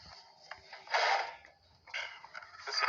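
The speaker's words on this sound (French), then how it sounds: "Ça, c'est le bruit que fait le lanceur." Recoil starter cord of a Nautac Quantum XM lawnmower pulled twice, each pull a raspy ratcheting, creaking whir lasting about half a second, close up and moderately loud, with no engine catching and no talking.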